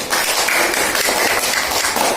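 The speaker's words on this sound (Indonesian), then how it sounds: "Kalau nggak ada tepuk tangan" A classroom audience of students claps in a steady, dense patter, loud and close, continuing without any voices over it.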